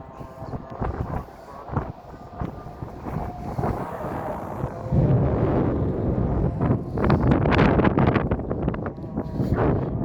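Strong wind buffets the microphone in loud, rumbling gusts that swell louder in the second half, with voices faintly underneath, outside Safa Mosque.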